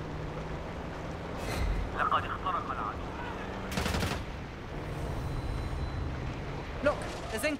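Gunfire in the video game Call of Duty: Black Ops 6, with bursts of shots ringing out over a constant loud rumbling game background, the heaviest volley coming midway.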